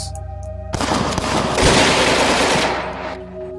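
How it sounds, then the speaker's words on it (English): Dense, sustained automatic gunfire as bandits shoot at charging horsemen, a loud continuous rattle of shots lasting a few seconds over a low background hum. "The bandits start shooting at them"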